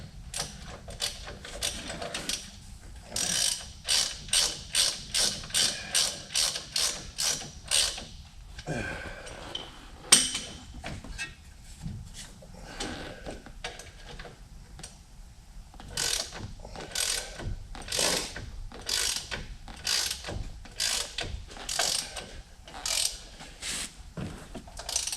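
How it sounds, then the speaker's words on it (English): A hand ratchet tightens a shock bolt on a Ford F350 with bursts of rapid, close clicking in repeated strokes. Brief pauses and creaks come between the bursts. "I'm going to tighten that up, which is probably going to be painful because this is pretty much hand work with a ratchet"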